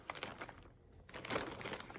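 Close crinkling and rustling of a plastic bag holding silk embroidery threads, continuous handling with a brief quieter pause and a louder burst near the end, no talk.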